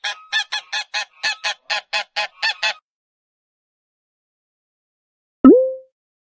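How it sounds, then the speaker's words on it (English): A goose honks about a dozen times in a steady, evenly spaced series of loud, nasal calls, followed by silence and a single short chime-like sound effect. "Goose."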